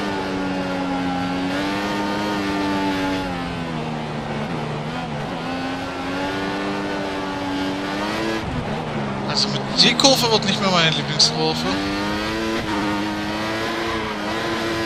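A race car engine from the Formel 1 2014 video game holds a steady high whine with shifting pitch, joined midway by brief tire squeals, as someone talks over it.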